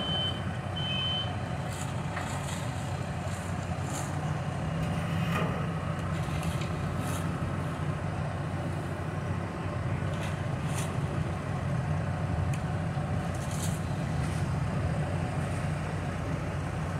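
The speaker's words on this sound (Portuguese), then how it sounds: "Caminhão abastecendo de novo a máquina." A truck refuels a road construction machine at a street resurfacing site, under a steady diesel engine drone with repeated reversing beeps and occasional clanks, all at moderate distance and without talk.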